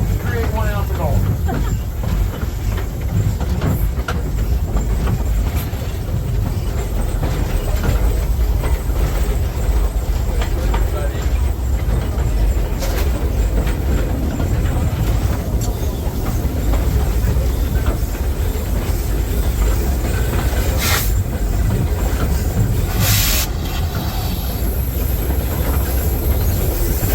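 Riding aboard the Cripple Creek narrow gauge steam train, a steady rumble of wheels and rolling cars carries on for the whole ride, with clicking rail joints, brief squeals and a voice talking over the noise.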